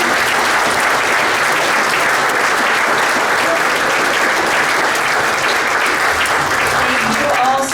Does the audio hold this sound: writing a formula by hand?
no